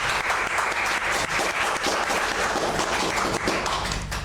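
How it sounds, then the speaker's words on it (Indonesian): Dense, sustained applause from a podcast audience after a Surabaya calligraphy champion is introduced, many hands clapping steadily and fairly close throughout, with no talk over it. "Beri aplaus."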